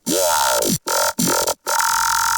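A heavy, distorted wobbling dubstep growl bass synth run through a vocoder, with a talky, vowel-like formant sweep, chopped into three loud bursts separated by abrupt silences.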